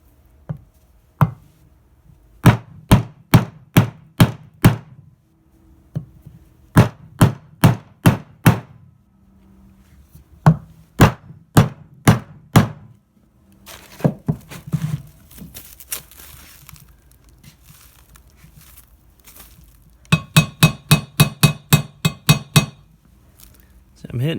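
Sharp metallic hammer strikes drive a swingarm bearing race into a 1982 Harley-Davidson FLH in a workshop, landing in quick bursts of five to eight blows separated by pauses, with some faint handling noise between them.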